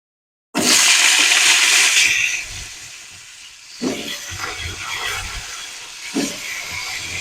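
Potato, pumpkin and drumstick stalks hit hot oil with five-spice seeds in a sudden loud hiss, which eases into a steady sizzle with a couple of fresh bursts as the pan is stirred.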